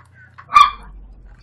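A single short bark from a dog in the modded survival game Minecraft, one sharp honk-like yelp, fairly loud and alone against a low background hum.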